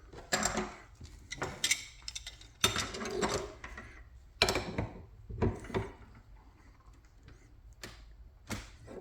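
Threaded parts of a Butler Chem pump are spun together by hand during a rebuild, giving close, irregular ratcheting and clicking bursts with short scraping turns between them over a faint background hum.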